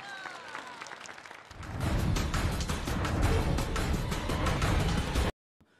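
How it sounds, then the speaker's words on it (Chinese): Applause rises from the arena crowd for a winning kickboxing fighter, starting quietly and swelling into loud, dense clapping before cutting off abruptly. "我们掌声送给李明蕊。"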